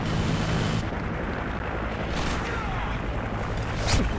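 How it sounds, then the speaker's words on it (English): A Predator missile strike in the video game Ghost Recon Future Soldier: a loud, sustained rumbling blast roar that fills the whole stretch, with a sharper crack near the end. "Friendly Predator missile inbound."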